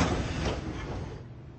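Metro train doors sliding shut in a Roblox game recreation of the Bucharest M4 line, a steady loud whooshing rumble that fades slightly toward the end, with no talking.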